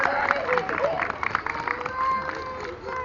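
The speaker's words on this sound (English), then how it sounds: "Can we give her a really big round of applause for that demonstration?" A crowd at a sea lion demonstration in Blackpool gives sustained applause with scattered cheers, a steady mid-level clapping wash heard from among the audience.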